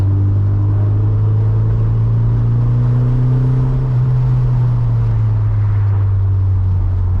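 A Toyota MR2 Turbo cruises at about 40 mph through corners, its engine holding a steady, loud low drone close by, with a slight pitch rise and fall and no voices.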